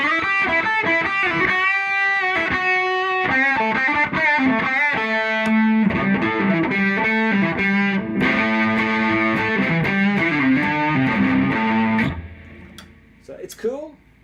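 An electric guitar plays through a Peavey Studio Pro 112 amp with the gain button engaged, giving a bright, driven tone. Melodic lines and chords run for about twelve seconds and then cut off, followed by faint handling noise.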